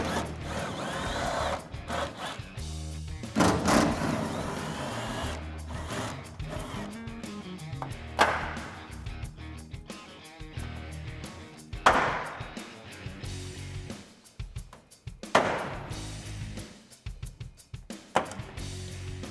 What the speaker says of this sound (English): So I'm gonna use my 10mm socket, I'm gonna pull the 2 bolts, my clip tool to remove the clips